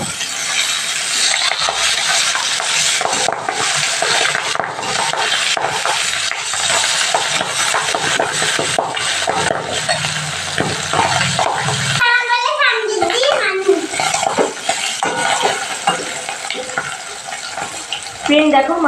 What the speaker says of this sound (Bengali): আমি এবার মাছগুলো একটু উল্টে দিচ্ছি